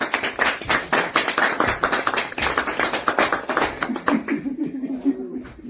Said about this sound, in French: Ah, on peut l'applaudir pour le retard.